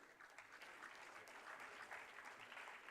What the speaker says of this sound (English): A very big round of applause for our esteemed dignitaries